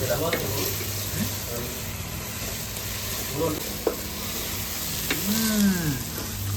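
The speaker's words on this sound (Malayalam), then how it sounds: "അപ്പം മിതമായ രീതിയിൽ ഇളക്കണം." Food stirred in a hot pan in a home kitchen, a continuous sizzle with occasional scraping strokes of the spoon and a brief clink, steady and close.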